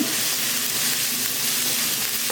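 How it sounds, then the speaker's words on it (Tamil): Onions sautéing in a pan for a chapati side dish, a steady, dense, close sizzle with soft crackle throughout and no talking. "வெங்காயம் வந்து நல்லா வதங்கணும்"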